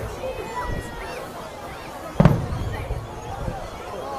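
New Year's Eve fireworks at Dee Why Beach in Sydney crack with one sharp, loud burst amid softer distant booms, while people nearby chatter and a crowd murmurs.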